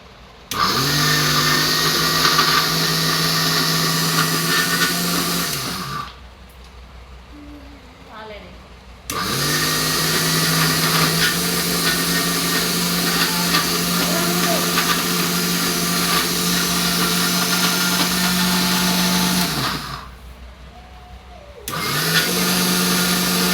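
A mixer grinder whirs loudly in two long runs, each stopping briefly with a quiet pause between, its motor tone steady and close.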